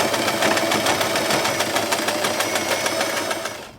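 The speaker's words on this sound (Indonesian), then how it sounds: "baru yang kedua kita jahit lagi tepat di sini karena kain satin itu agak susah untuk dijahit" A sewing machine stitches slippery satin ribbon fabric, running at a fast, even, loud mechanical rhythm of rapid needle strokes throughout, then slowing and fading at the end.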